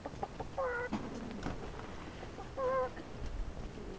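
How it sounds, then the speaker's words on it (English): Hens cluck in two short bursts against a quiet outdoor background, nearby and fairly soft. "Old chickens."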